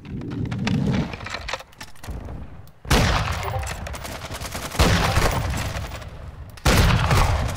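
Bursts of Lachmann Sub submachine gun fire in Modern Warfare 2, several rapid volleys separated by brief pauses, loud and close with game sounds in between.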